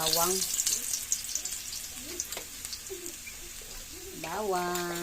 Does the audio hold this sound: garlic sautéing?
yes